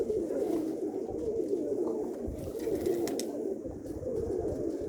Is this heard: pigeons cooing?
yes